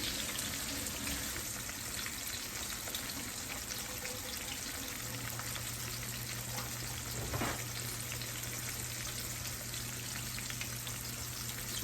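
Steak sizzling steadily in a hot pan, cooked halfway before being smothered in mushroom and onion; a continuous close crackle and hiss with no talking.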